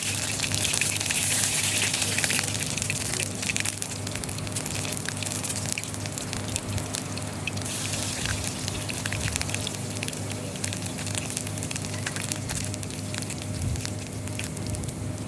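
Ground spice paste hits hot soybean oil in a pan and keeps up a steady, dense crackling sizzle with small pops throughout, fairly close and continuous.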